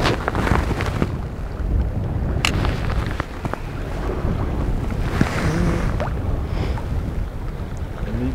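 Strong wind sweeps across a seashore fishing spot and batters the microphone in a loud, continuous rumbling roar with gusty surges and no pauses, with a few faint knocks and rustles underneath and no voices.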